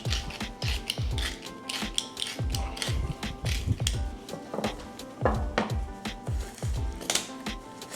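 Salt and pepper being ground onto a raw pork chop, loud close ratcheting crunches from a hand grinder in quick repeated bursts with brief pauses, no talking.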